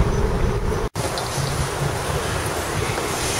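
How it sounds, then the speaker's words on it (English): Wind blows steadily outdoors as a loud, continuous rumble with gusty buffeting across the microphone, cut by one brief dropout partway through; no talking. "Got some wind today."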